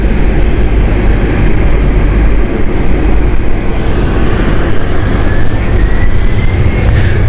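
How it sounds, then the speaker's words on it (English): Glasgow City airliner rolling down the runway for takeoff at London City Airport, a loud, steady broadband engine roar that holds constant throughout with a faint rising whine near the end. "So rolling at the moment is Glasgow City Flight 8724."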